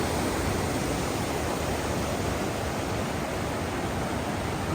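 Constant broadband rush of water flowing at Hebron Colony Falls in North Carolina, a steady, loud, unbroken roar heard close by with no voices.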